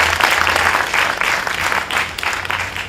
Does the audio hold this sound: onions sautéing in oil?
no